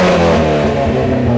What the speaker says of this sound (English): Give it a full throttle rev.